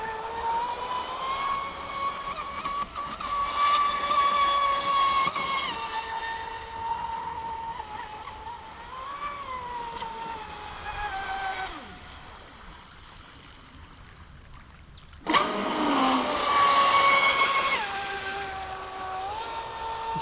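A Traxxas Spartan RC boat fitted with an upgraded power system and a CNC propeller whines at high pitch as it runs across the water. The tone holds and drifts, fades somewhat midway, then surges sharply louder again as the throttle opens.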